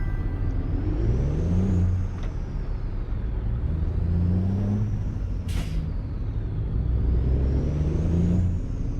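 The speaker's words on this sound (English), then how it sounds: "Same with the new sound effects for traffic." Traffic rolls past in American Truck Simulator, a loud, continuous drone of engines and tyres with a rising and falling whine as vehicles pass close by, and a brief hissing burst partway through.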